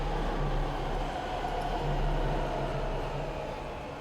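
Steady low rumble and hiss of a tram ride aboard a ship in the Dead Space video game, a continuous mechanical drone with no voices over it.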